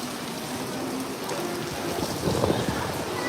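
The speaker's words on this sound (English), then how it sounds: "You can see the rain clearly picking up." Steady rain from Hurricane Milton pours down at Walt Disney World in Florida in a dense, even hiss, with a slight surge in intensity toward the end; no voices are heard.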